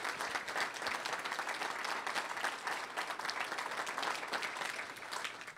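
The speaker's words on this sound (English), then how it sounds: "Let's give these folks a round of applause." Steady audience applause after a closing session at a public forum on sustainable water policy for California and Yolo County, dense and even throughout with no talk on top.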